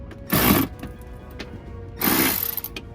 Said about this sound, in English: we're gonna tighten the 8mm bolts first